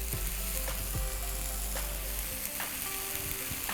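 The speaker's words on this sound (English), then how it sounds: "I'm just going to drop the tomatoes here and there" Tomatoes sizzle in a hot frying pan for a Nepali-style mushroom curry, a steady, dense crackle with scattered sharp pops, close and fairly loud, with a low rumble underneath and no talk.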